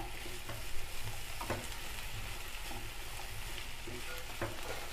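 Potato pieces frying in a pan while being stirred, a continuous soft sizzle broken by a few scraping stirs, close up and fairly quiet, no one speaking.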